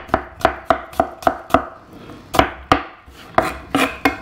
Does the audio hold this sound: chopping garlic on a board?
yes